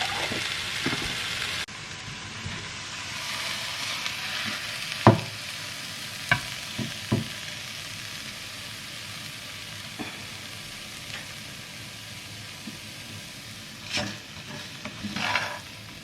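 Thin-noodle pad thai is stir-fried in a pan: a steady, close sizzle with occasional sharp scrapes and clacks of the utensil against the pan.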